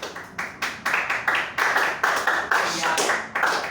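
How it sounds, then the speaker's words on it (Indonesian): Hands clap repeatedly at close range in a steady, fairly quick rhythm, each clap sharp and loud, with no other sound between. "tepukan itu kalau kamu paham kamu tepuk tangan itu bisa menghasilkan beberapa bunyi"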